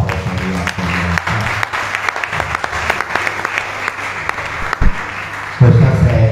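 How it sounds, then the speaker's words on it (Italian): Loud applause from an audience at an Italian cinema award evening, crisp dense clapping carrying on for several seconds with a voice speaking briefly near the end. "Vi prego di fare un applauso."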